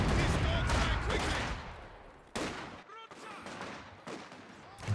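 Machine gun bursts and mortar impacts from the World War II strategy game Company of Heroes 2 on the Lienne Forest map, dense rattling fire with sharp blasts, heard under a commentator's voice.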